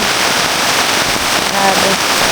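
Heavy rain pours steadily at a campsite, a dense continuous hiss close to the microphone, with a few brief sharper taps mixed in.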